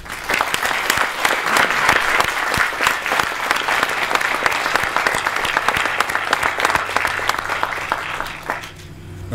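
A loud, steady round of applause from the audience at a college science center groundbreaking ceremony honours the Board of Trustees, a full crowd clapping continuously for about nine seconds before it cuts off.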